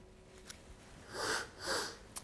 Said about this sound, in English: have a sniff of that